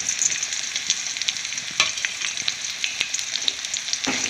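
Dried red chillies hit hot oil alongside green chillies, giving a continuous bright crackling sizzle with sharp pops scattered throughout, close and fairly soft, with no voices, for a pumpkin vadiyalu dish with dal and mango.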